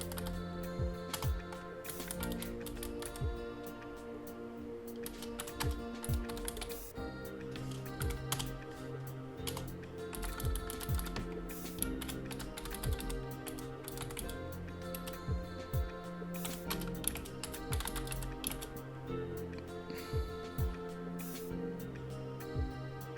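Keys of a computer keyboard are typed in steady, quick clusters of soft clicks for over twenty seconds, heard faintly beneath a continuous background music bed.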